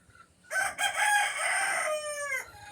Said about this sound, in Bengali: আর ওদিকে মুরগি চেঁচাচ্ছে খাবারের জন্য